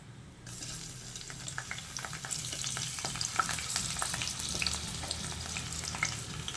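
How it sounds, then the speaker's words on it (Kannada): Onion hisses in two spoons of oil in a pan, a close, steady sizzle broken by scattered crackles and stirring scrapes, and it builds slightly just after the start. "ಬಾಣಲಿ ಇಕ್ಕಿದ್ದೀನಿ ಎರಡು ಸ್ಪೂನ್ ಆಯಿಲ್ ಹಾಕಿದ್ದೀನಿ ಇದಕ್ಕೆ ಈರುಳ್ಳಿ ಹಾಕೊಳ್ಳೋಣ"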